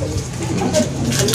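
A racing pigeon returning to its loft during a derby in Matnog coos softly and repeatedly, close by, against a background of rustling outdoor noise.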